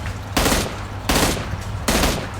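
M16 rifle fire in PUBG comes in three loud bursts of rapid shots, evenly spaced about three-quarters of a second apart, with no voices over them.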